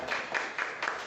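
A church congregation claps together during a worship service, a dense, steady wash of hands with a slight pulsing rhythm throughout a brief burst.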